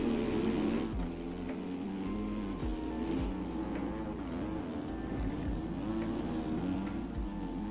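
A Husqvarna motocross bike engine in the MX Bikes video game, revving loud and continuous with rising and falling pitch as it shifts through gears, alone without talk.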